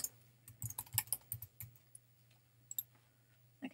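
Someone typing on a computer keyboard, with quick bursts of clicking keystrokes that pause and resume, close and quiet.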